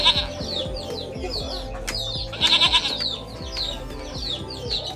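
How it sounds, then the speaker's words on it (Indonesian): Goats bleat repeatedly in a farm setting, several loud, wavering calls overlapping one another, with steady rustling and animal noise underneath and faint chirping. "kambing itu biasanya seperti ini."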